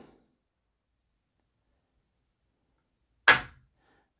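A sharp pistol trigger reset click, a single brief snap alone in near silence.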